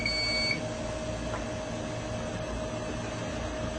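A short, high electronic alarm beep from a Bondascope 3100 bond tester in resonance mode sounds at the start, then stops, leaving a steady hum and hiss of machinery.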